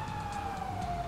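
A fire engine siren from the video game GTA 5 holds one steady, slowly falling tone over a low rumble, moderately loud and continuous for about a second.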